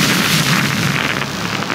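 Dense, continuous barrage of explosions and gunfire from the video game ARK during a story-mode final boss fight, loud and sustained with overlapping blasts throughout.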